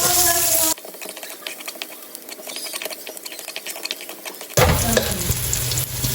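Garlic and onion sautéing in a pan, a dense crackling sizzle with rapid ticking pops, loud and close, jumping louder at the start and near the end as the food is stirred or disturbed; no talking.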